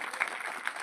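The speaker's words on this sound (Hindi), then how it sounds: "तालियां" A brief burst of audience applause at a motivational ceremony for a topper, a faint, even patter of clapping in a hall lasting under a second.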